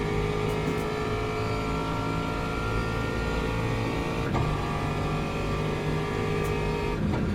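Race car engine in the Le Mans Ultimate sim racing game at classic Monza, droning steadily at high revs through the Parabolica corner, loud and continuous with a brief shift in pitch midway.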